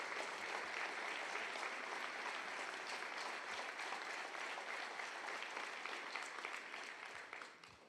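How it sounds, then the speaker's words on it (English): Audience applause fills a business leadership awards ceremony, steady dense clapping from a large crowd for the full stretch, fading slightly at the end. "If you could stand up and give him a round of applause"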